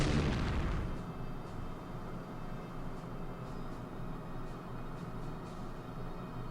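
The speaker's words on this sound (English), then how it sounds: "the battleship also participates in bombing" Battleship shore bombardment in the Strategic Command wargame: a loud booming explosion at the start rolls off into a long rumbling decay, with faint scattered pops afterward.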